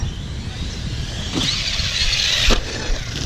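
A Hobao Hyper VSE RC car driving toward the camera outdoors, its electric motor a rising high-pitched whine that grows louder as it nears, with a sharp thump near the end.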